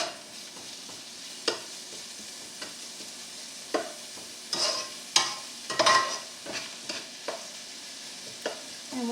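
Six large fresh garlic cloves sizzle softly in olive oil in a pan, with scattered scraping taps from stirring that grow busier midway, fairly close and fairly quiet.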